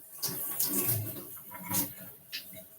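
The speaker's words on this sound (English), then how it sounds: "Quick rinse." Tap water runs briefly over a meat knife in a home kitchen sink for a quick rinse, a soft, close splashing stream with a few brighter spatters, quiet and with no talk.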